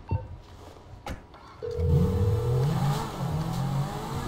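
A car engine in the video game Grand Theft Auto V starts up and revs, climbing and dropping in pitch, preceded by a couple of sharp clicks and a short electronic tone.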